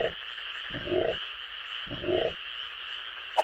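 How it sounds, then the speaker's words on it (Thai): Two separate croaking bursts from a frog, each about half a second long and roughly a second apart, stand out over a constant high insect drone outdoors, followed by one short sharp click. "จากประสบการณ์อันโชคโชนเสียงแบบนี้กบแน่นอน"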